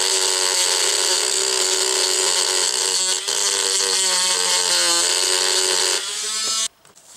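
Electric power sander grinding the edges of a handmade resin palette, a loud, steady high whine that keeps going for several seconds, dips briefly, then stops abruptly near the end.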